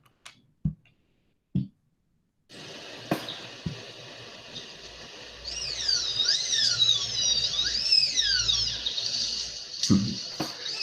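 A tapir gives a series of high, whistling squeals that rise and fall in looping sweeps, repeated several times in a recording of the animal. A few sharp clicks come before and after.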